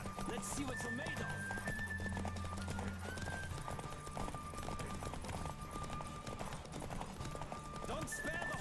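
A horse gallops and neighs in The Witcher video game, with rapid rhythmic hoofbeats and whinnies layered under music and a voice speaking throughout.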